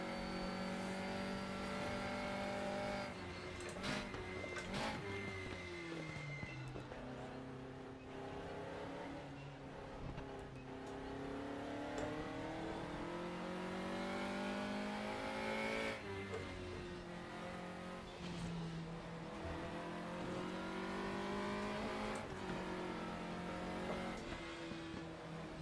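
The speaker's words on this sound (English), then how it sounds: "So, how much downshift blipping will this gearbox take?" Race car engine in the RaceRoom racing game revving hard and continuously, with repeated throttle blips on downshifts, loud and close throughout with rising and falling engine pitch.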